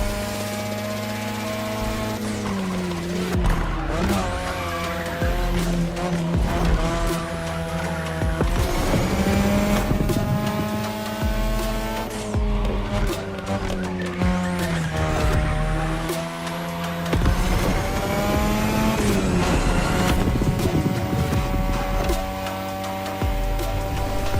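Street race cars in The Crew Motorfest video game roar continuously with revving engines rising and falling through gear changes, punctuated by repeated tire squeals, loud and close throughout.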